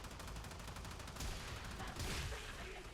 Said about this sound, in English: this is definitely one of the strongest shotguns that we have in the game right now with the Incarnon adapter